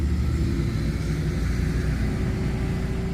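A truck drives past on a road near a garden at 7200 feet, giving a sustained low engine rumble and road roar that stays loud and steady throughout.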